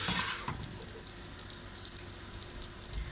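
Sliced onions soften in a pan over medium heat for a potato-and-spinach curry, giving a soft, steady sizzle with a few faint stirring clicks near the start.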